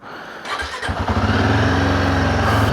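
A heavy touring motorcycle cold starts: a short cranking burst, then the engine catches and settles into a loud, close, steady idle thrum.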